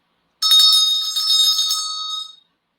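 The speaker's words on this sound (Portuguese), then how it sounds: "eu vou tocar um sino que é para a gente iniciar" A single bell strike rings out clear and loud, opening a guided meditation session, its bright metallic tone sustaining and slowly fading over about two seconds in otherwise silent surroundings.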